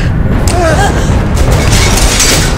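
A pyrotechnic explosion set off for a low-budget film gives a loud, close boom with a deep rumble that fills the whole short clip.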